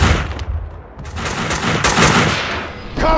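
Gunfire in Max Payne 2, loud close bursts of rapid automatic shots over a rumbling background, with a fresh volley at the end.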